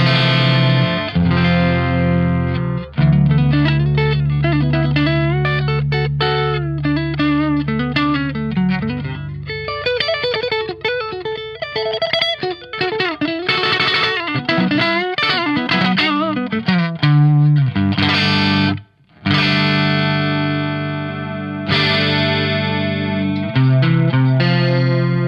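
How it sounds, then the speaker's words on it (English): A 1980s ESP Mirage Deluxe electric guitar played through a clean channel on the neck pickup, with ringing chords and melodic runs under chorus and effects shimmer, loud and continuous with one brief pause near the end. "This neck pickup, clean channel."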